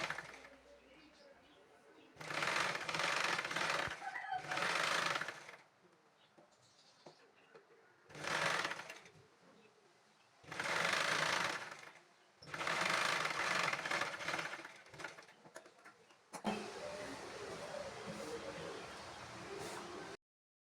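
Home sewing machine stitching a blouse edge in bursts of rapid whirring, several runs of a few seconds each separated by pauses, close and fairly loud, with softer handling sounds between.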